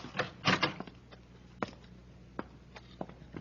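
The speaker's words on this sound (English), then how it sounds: "I'll open the door." A door opened in a radio drama hallway scene: a cluster of knocking, latch-like clicks and a thump close up, followed by a few sparse, sharp clicks at intervals in a quiet room.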